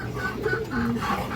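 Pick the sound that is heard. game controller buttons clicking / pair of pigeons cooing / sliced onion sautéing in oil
pair of pigeons cooing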